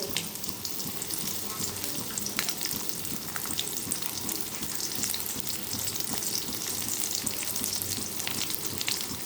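Vegetables such as carrot fry in hot oil in a pan for poha. A steady, close sizzle and crackle runs throughout with occasional stirring.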